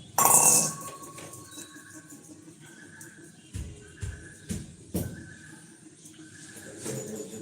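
Two cooking pans taken and handled in a kitchen, a loud clatter at the start followed by several light metallic knocks and clinks, with faint talk in the background.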